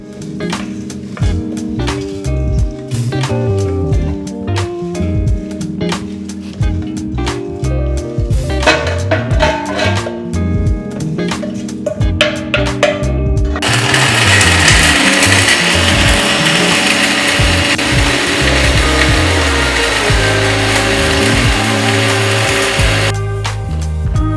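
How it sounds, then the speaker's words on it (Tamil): A mixer grinder jar grinds garlic and dry ginger into masala powder, first with rattling, knocking bursts of the pieces being chopped, then a loud, steady whirring roar before it stops. "இதை ரெண்டையும் நம்ம மிக்சி ஜாரில் போட்டு அரைச்சி எடுத்துக்கலாம்"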